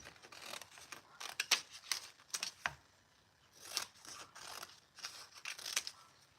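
Scissors snip close by in short, crisp bursts: quick clusters of cuts separated by brief pauses, fairly quiet overall.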